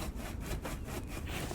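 Rhythmic rasping strokes cut into logs in The Infected survival game, about nine quick, even scrapes in a second and a half, close and loud with no talking.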